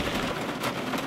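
Steady rain patters on the hard surface of a Piper PA-28 aircraft in a flight simulator, a dense, even hiss of drops close by with no voices.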